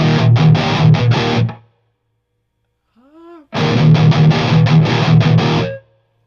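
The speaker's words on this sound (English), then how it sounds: "there is a metal gate, so for a hard gate" Distorted electric guitar through a BluGuitar AMP1 with its metal noise gate plays loud, chugging palm-muted riffs that cut to dead silence between phrases, with a brief faint sliding note in the gap.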